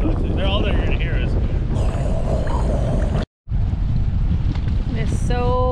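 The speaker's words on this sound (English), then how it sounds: "It is so windy today." Strong wind on a beach in Key West buffets the microphone with loud, continuous roaring rumble, cut by one brief dropout, while voices talk faintly beneath it.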